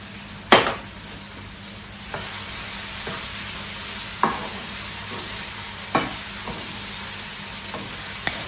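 Onions, chilli and tomato sizzle steadily in a pan while a spoon stirs them, with a few sharp scrapes and taps against the pan spaced a second or two apart.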